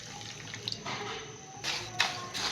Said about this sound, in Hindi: और 1/2 कप पानी डालेंगे